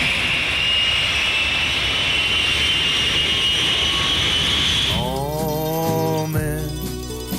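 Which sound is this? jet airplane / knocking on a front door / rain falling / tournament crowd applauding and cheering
jet airplane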